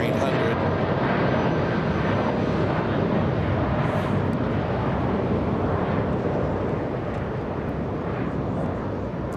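An American Airlines Boeing 787-8 Dreamliner bound for Tokyo Haneda takes off from LAX, a constant, fairly distant engine roar that stays level and slowly eases off near the end.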